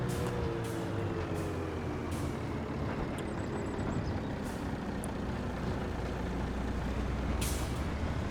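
A truck drives through a farming video game, its engine a constant low rumble beneath sharp bursts of air-brake hiss released several times, with no talk over it.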